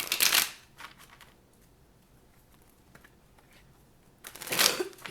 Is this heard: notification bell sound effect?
no